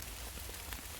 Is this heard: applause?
no